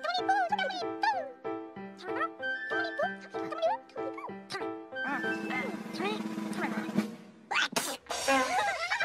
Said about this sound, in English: What a lot of Tomblyboo sneezes.